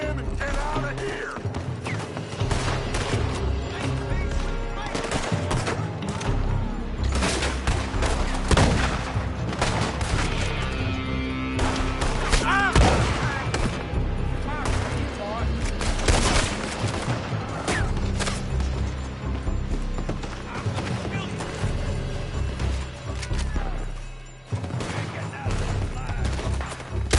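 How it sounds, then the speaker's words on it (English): Enemies shoot from a building in a PS4 video game: dense, rapid bursts of gunfire and crashing impacts fill the scene, loud and nearly continuous with overlapping shots throughout. "They're shooting from that building."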